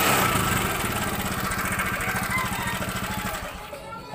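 A small motorcycle engine revs loudly with a rapid, rattling chug during a spark plug test, then winds down and fades near the end.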